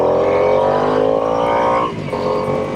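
Harley-Davidson Nightster motorcycle engine running steadily while riding, a loud continuous droning hum with wind noise that dips briefly near the end as the throttle eases.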